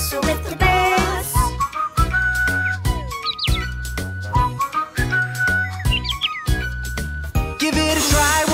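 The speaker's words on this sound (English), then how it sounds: "And we'll whistle with the birds." A bright whistled melody weaves through a bouncy, cheerful music track, its tones gliding and repeating over a steady beat.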